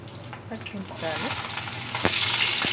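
Green chillies frying in hot oil in a pan with seasoning seeds and onion for a Telugu tindora (dondakaya) fry, a steady close sizzle that swells louder partway through, with a voice speaking over it.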